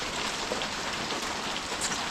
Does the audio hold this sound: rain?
yes